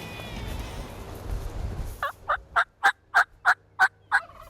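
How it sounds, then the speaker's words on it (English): A wild turkey, out on a spring hunt, gobbles in a rapid series of about eight loud, evenly spaced calls after a quieter stretch of outdoor background. "And sure enough, he gobbled."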